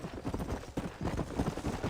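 Horse hooves galloping in Red Dead Redemption, a quick rhythmic clip-clop of repeated hoofbeats, close and fairly loud, with faint voice traces in the background.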